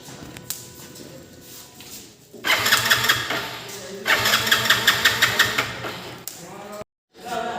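A Hero HF Deluxe motorcycle with a newly replaced fuel pump cranks and fires up, its engine catching into a loud, lumpy idle with repeated revving pulses up close, then cuts out briefly before resuming.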